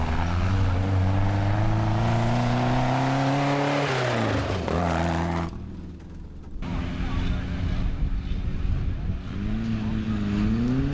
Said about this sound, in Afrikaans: Hy klink baie pragtig, daai motor.